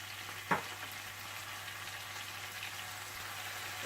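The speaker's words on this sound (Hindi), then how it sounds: "और जैसे ही लहसुन थोड़ा सा फ्राई हो जाए तो आप इसमें डाल दें सोया सॉस," Garlic frying in a pan with soy sauce and crushed red pepper gives a steady, close sizzle throughout, with a couple of brief clinks from stirring.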